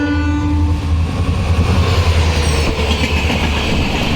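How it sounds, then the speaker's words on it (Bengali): A passenger train rolls past a railway crossing at night in a loud, continuous close rumble, with steady wheel and carriage noise and a faint horn-like tone throughout. "এটা একটা প্যাসেঞ্জার ট্রেন, খুব সুন্দর ট্রেনটা দেখো"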